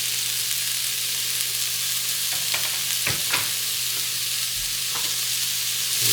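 Garlic and pepperoncini fry in spicy oil and butter in a pan, giving a continuous bright sizzle, with a few stirring scrapes partway through.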